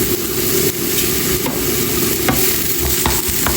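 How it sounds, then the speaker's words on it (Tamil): Rice tossed into a pan of sautéed garlic sizzles loudly and continuously up close, while a utensil stirs it with repeated scraping strokes and no one speaks. "உள்ளி நல்லா வதங்கிற ஸ்டேக் ரைஸ் போட்டு கிளறி விடணும்."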